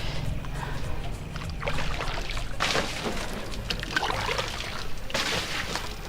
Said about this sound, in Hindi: तो दोस्तों चलो अब इसको पानी से मैं साफ़ करती हूँ।